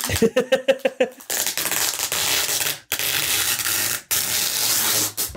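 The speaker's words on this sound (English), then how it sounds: "Sorry for the anti ASMR of this tape." Packing tape on a comics shipping package gives a loud, continuous ripping screech, broken by two short pauses, after a quick run of crinkly tearing noises at the start.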